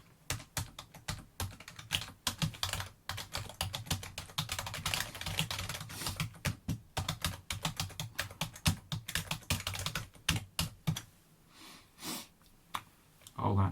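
A password is typed on a computer keyboard in a quiet ASMR office roleplay: close, crisp keystrokes come in irregular bursts, pause briefly near the end, then resume, with soft breaths in between.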